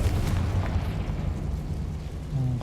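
Incendio fire spell cast inside a mine in the video game Hogwarts Legacy: a continuous roaring, crackling whoosh of flame, fairly loud and sustained throughout with a low rumbling body, no voices.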